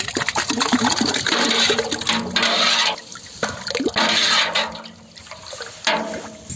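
Thick sarsaparilla (nannari) syrup poured into a drink for sarbath, a close, continuous liquid splashing and gurgling stream with slight surges.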